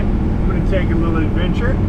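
A truck towing a rollback trailer cruises along, its steady engine drone and road rumble filling the cab at close range with no pauses.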